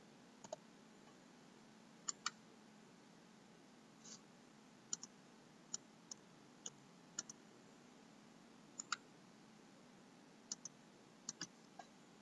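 Sparse, faint key clicks from a computer keyboard as text is typed into a build option description in Oracle APEX 19.1, isolated taps spread out over a low steady hum.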